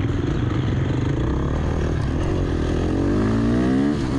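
A dirt bike accelerating hard on a motocross track during an AMRA race round at ACP, the engine loud and close, its pitch climbing through the revs with a rough, buzzing tone.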